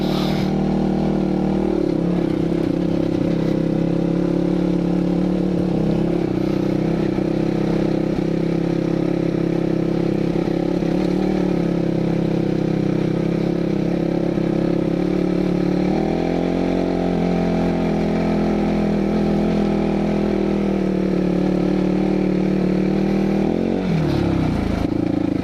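A 2021.5 GPX Moto FSE 450R dirt bike rides a trail with leaves, rocks, mud and moss, its single-cylinder engine droning loud and close, with the pitch rising and falling as the throttle shifts.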